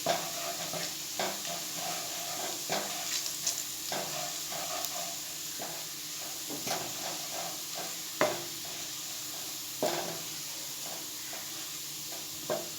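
Garlic browns in a pan for chicken bhuna masala, giving a low steady sizzle broken by intermittent stirring scrapes and clinks at irregular intervals.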